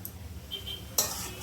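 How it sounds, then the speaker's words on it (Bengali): A spoon scrapes and clinks against a pan as carrot halwa is stirred, soft and close, with a brighter metallic clink near the end. "ভালো করে একদম নেড়ে নেড়ে নেড়ে নেড়ে কালারটাকে পুরো চেঞ্জ করে দেবো"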